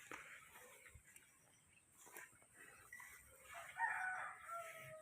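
Farm chickens around a feeding area, with a rooster crowing loudly toward the end over scattered quieter clucks and rustling, close by in an otherwise quiet yard.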